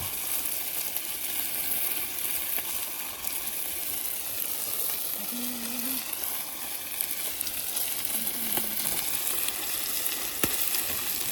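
Meat skewers sizzle steadily on an outdoor garden grill, a continuous bright crackling hiss with small pops, close and unbroken, with no talk over it.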